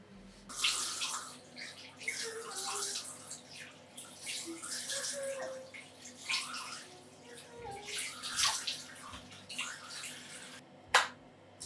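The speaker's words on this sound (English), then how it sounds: "So whilst I rinse my mouth from the toothpaste foam, I'm then going to rinse my face as well." A face is rinsed with running water at a bathroom sink, bringing repeated splashing bursts and gurgles under a soft background hiss, close and moderately quiet, with a sharp knock near the end.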